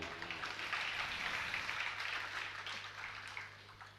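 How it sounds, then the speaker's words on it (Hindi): Faint, distant clapping from the audience at a Jain religious sermon, a soft, even patter of many hands over a low steady hum. "ये तालियां काहे के लिए बन जाए?"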